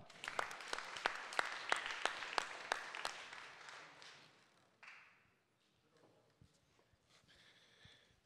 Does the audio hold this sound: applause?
yes